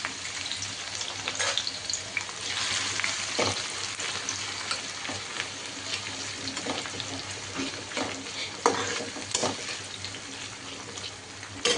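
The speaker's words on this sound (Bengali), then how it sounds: "আমি এখন পেঁয়াজ বেরেস্তা করব, সে কারণে আমি তেল দিয়ে দিচ্ছি।" Chopped onions frying in mustard oil in a wok make a steady, close crackling sizzle with frequent stirring scrapes and clatters over a low background hum, no talk.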